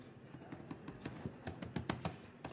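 Fingers typing on a computer keyboard, a quick uneven run of close, crisp key clicks with no voices.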